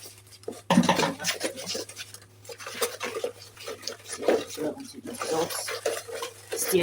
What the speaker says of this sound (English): Stir it very well and make sure it has dissolved before we pour it in the other bucket.